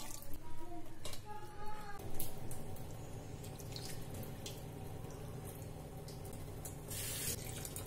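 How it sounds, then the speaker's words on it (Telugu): Running tap water splashes steadily into a sink while chenna cheese is rinsed by hand, a continuous mid-level flow with a few brief louder splashes and no talk. "ఇలాగే దీన్ని ఒక 3 సార్లు వాటర్తో కడగాలి."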